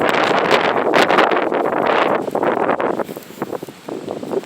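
Strong, steady wind roars through the woods on a blustery day, a loud continuous rush with gusts and rustling leaves that eases toward the end into softer, patchier rustles, buffeting the microphone close by.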